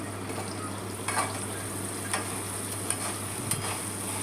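Onion and chilli pieces fry in a generous amount of oil in a kadai, giving a steady low sizzle with a few soft clicks of a spoon, heard alone without talk.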